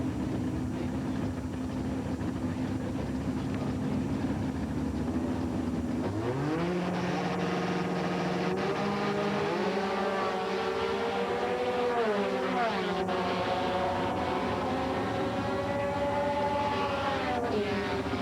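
Drag racing cars, a V6 D Econo dragster and a Pontiac D Econo altered, roar at an NHRA Competition Eliminator event in Houston, a sustained engine drone rising in pitch partway through as the engines rev and pull away.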